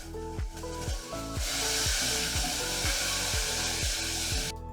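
Olive oil and tomato sauce sizzle steadily in a pan, a close, continuous frying hiss broken by a regular series of scraping stirs.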